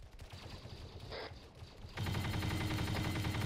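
Machine gun fire in the military video game Arma 3, rapid bursts of shots heard at a distance at first, then a louder, closer sustained burst rattling through the final second and a half.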